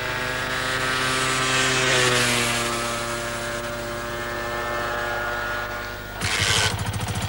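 A Honda CG125 motorcycle's single-cylinder engine drones steadily while riding, with its pitch rising and falling, before a rougher, pulsing burst near the end.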